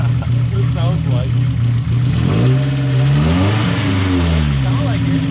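A cammed Mazda Miata engine revs up and down close by, running rough as if firing on only two cylinders, with an uneven, wavering pitch and voices talking over it.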